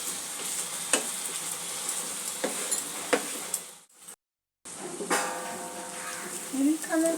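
Spice masala with green chillies sautéing in a pan for a bhetki fish curry, a steady close sizzle and frying hiss with occasional clinks of a spoon against the pan and a brief gap of silence.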